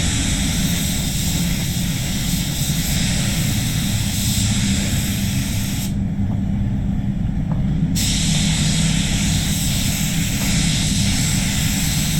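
Spray gun laying down a second coat of glass clear coat on a skull at 2.4 bar, a steady loud broadband hiss of air running continuously, with a short drop in the spray from about six to eight seconds.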